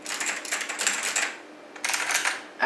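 Typing on a vintage Alps clone keyboard fitted with PBT keycaps: a rapid, close run of crisp key clicks in two bursts separated by a brief pause, no voices.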